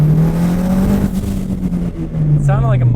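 A Nissan S14 engine revs loudly and steadily, its pitch climbing slightly then sagging as it starts breaking up, followed by a brief higher whine near the end.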